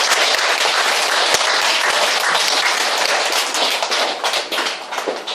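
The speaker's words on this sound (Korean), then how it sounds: "박수 좀 보내주시죠." Dense, loud applause fills the room at a fashion show as an audience claps steadily and close, a continuous wash of many hands that thins slightly toward the end.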